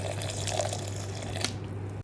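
Water pours in a steady close splash into a grinder jar holding ragi and runs for about a second and a half before it stops.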